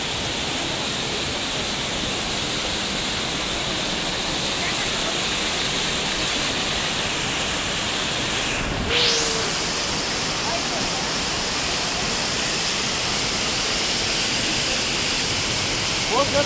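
Sundarijal waterfall in Kathmandu pours in a dense, unbroken roar of rushing water, loud and constant throughout, with a brief passing noise midway and faint voices under the flow.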